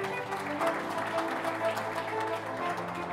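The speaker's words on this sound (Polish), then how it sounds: "Wielkie brawa dla niej." An audience at a political party convention applauds a candidate, steady clapping under a sustained musical drone, at moderate loudness.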